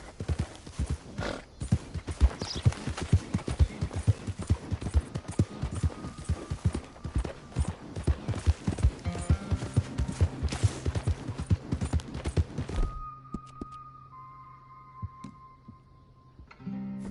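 Horse hooves clip-clop in Red Dead Redemption 2, a fast rhythmic run of close, loud hoofbeats that slows near the end, with a whinny and a faint steady hum once the hooves stop.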